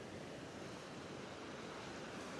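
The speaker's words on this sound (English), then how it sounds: "A lot of power in the waves." Ocean surf breaks and rushes steadily, a dense continuous roar of churning water with wind noise blowing across the microphone.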